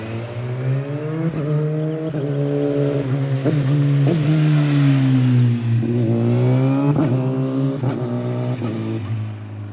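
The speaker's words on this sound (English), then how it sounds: "I can hear the shift happening, I think." A loud Kawasaki ZX-10R motorcycle engine revs steadily, its pitch climbing and then dropping sharply several times as gears shift, with no voices over it.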